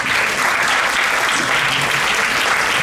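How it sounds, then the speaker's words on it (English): Audience at a cultural festival in Houston applauding, a dense and steady burst of many hands clapping close and loud throughout. "please give a round of applause"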